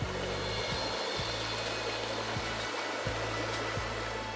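The River Inny flows below a countryside house in Callington, a steady broadband rush of water that runs without a break, along with a few soft low thumps and no speech.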